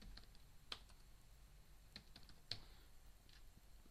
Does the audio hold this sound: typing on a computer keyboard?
yes